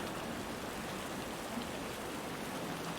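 Dense, even hiss of steady rain falling in a virtual reality scene, continuous patter with no breaks or voices, moderately soft.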